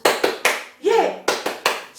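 A group of children at a church Sunday school service clap the Tepuk Yesus pattern: three quick sharp claps, a voice calling out, then three more claps, close and lively.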